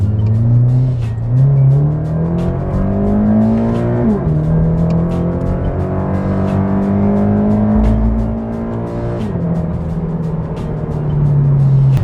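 A Toyota 86 sports car with a manual gearbox accelerates hard from inside the cabin, its engine note climbing steadily and then dropping at each upshift, loud and continuous through two or three gear changes.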